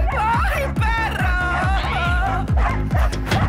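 A dog in a television drama scene gives a rapid run of loud, close yelping barks mixed with whines, repeating in quick bursts.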